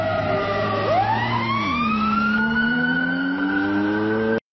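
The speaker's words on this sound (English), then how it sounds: "sirens and humming engine approach and pass" AI-generated sirens wail and sweep in pitch as a humming engine approaches and passes, the siren tone dropping as it goes by while the low engine drone continues steadily and loud before cutting off abruptly.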